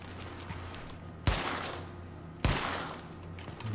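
Two loud, sharp gunshots fired at a TV in The Division video game, spaced about a second apart, each with a booming low thump and a bright burst that decays over a background hum.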